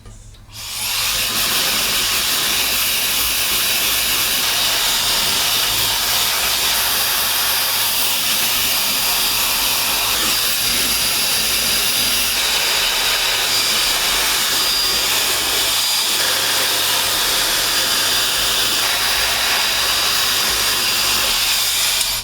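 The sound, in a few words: hair dryer blow drying braids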